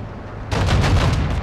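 Heavy APC gunfire in Modern Warfare 2 bursts in suddenly midway after a low rumble, a dense, loud, rapid roar of shots that continues to the end.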